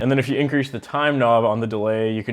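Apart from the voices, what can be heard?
No everyday noise stands out behind the speech.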